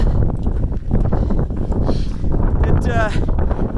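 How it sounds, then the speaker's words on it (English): Strong wind on the Pacific Crest Trail in California buffets the microphone with a constant low rumble, while a voice talks faintly beneath the gusting roar. "I don't know when the wind's going to let up."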